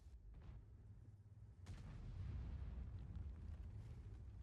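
A deep explosion in World of Tanks booms with a sudden sharp onset, followed by a heavy rumbling roar that lingers, amid game background noise.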